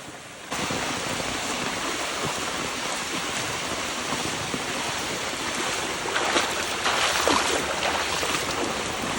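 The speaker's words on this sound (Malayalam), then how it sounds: "ചോലയിൽ നിന്ന് വരുന്ന വെള്ളമാണിത് നല്ല മഴയാണ് ഇന്ന്" Rain-fed stream water rushing during heavy rain, a broad continuous hiss and gurgle that steps up in loudness after the first half second and swells slightly near the end, with no voices.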